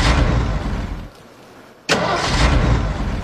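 In a comedy sketch about a pretend aircraft, a mid-sized engine runs loudly and close, cuts out abruptly into near silence for about a second, then roars back to life and keeps running steadily, with no talk.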